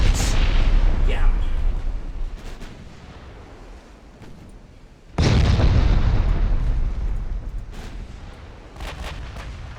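Heavy shell hits explode against a battleship in the naval game Ultimate Admiral: Dreadnoughts. A loud, rumbling impact blast sounds first, then after a lull a second deep explosion bursts in and decays slowly, with scattered crackles and background chatter.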